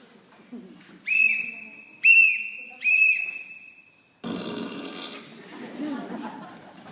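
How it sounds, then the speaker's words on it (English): Three short, shrill whistle blasts sound in quick succession, followed by a burst of noisy commotion. "Sound your whistle, boys."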